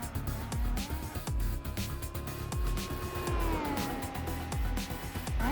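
A Subaru WRX races in Gran Turismo 4, its engine whining through rising and falling gear changes, with sharp clicks and tyre noise around it, loud and close throughout.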